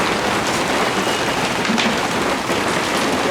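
Steady, dense rain pours down in darkness, a continuous loud hiss with no pauses and no voices.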